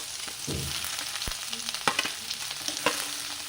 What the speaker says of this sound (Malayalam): ഇതൊന്നും നമ്മളിങ്ങനെ വാട്ടിയെടുക്കാം